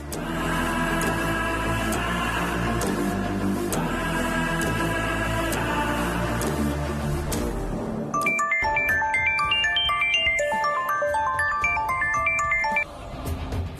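A phone ringtone plays during a call, a loud melodic electronic ring repeating steadily, then switching to a brighter chiming tune of quick notes, with no talking over it.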